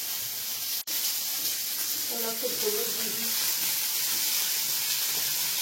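Bitter gourd fries in a wok with a steady, even sizzling hiss throughout, with a brief pause at one point, while a person speaks softly over it.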